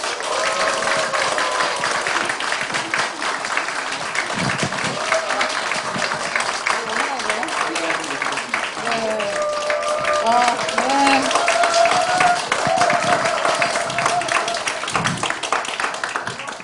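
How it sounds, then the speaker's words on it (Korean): A lecture audience at a civic school event gives sustained, dense applause to welcome a politician, steady and fairly loud throughout, with people talking and calling out over the clapping. "뜨거운 박수로 모시겠습니다"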